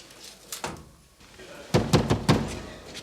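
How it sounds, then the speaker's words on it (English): A door is knocked on in a prison setting: a couple of faint taps early, then a close, firm burst of four or five quick raps on the wooden door, with no voices. "Ives, will you knock before you come in here?"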